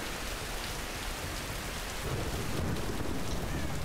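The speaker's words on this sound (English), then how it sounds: "Man, it is raining hard." Heavy rain pours down in a dense, steady hiss in the video game Tomb Raider (2013), with a deep rumble of thunder swelling up partway through.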